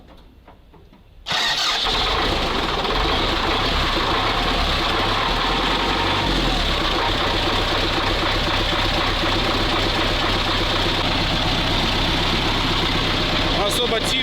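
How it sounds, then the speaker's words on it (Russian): An old ZIL crane truck with a newly fitted muffler cranks over and fires up, then settles into a loud, steady, rumbling idle close by, its low knocking pulse continuing without a break. "нужно сделать обязательно пробный запуск и послушать, как работает теперь наш двигатель с глушителем"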